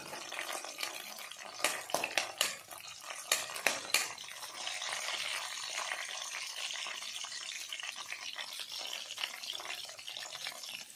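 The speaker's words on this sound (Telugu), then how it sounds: "రెండు బాగా ఫ్రై అవ్వాలన్నమాట." Green chillies and garlic frying in a pan, a soft steady sizzle under a few sharp clacks of a utensil against the pan early on, quiet and close.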